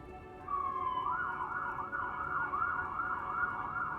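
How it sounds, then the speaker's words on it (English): A loud emergency siren in the video game Disco Elysium, a steady wailing tone that rises and falls repeatedly over a low rumbling background, with no talking. "A really loud ass siren."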